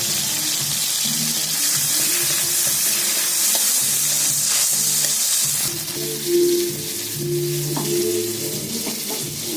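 Tomatoes dropped into hot oil with black cumin seeds, frying loudly and close with a steady bright sizzle that shifts as they hit the pan, alongside scraping and stirring and no talking.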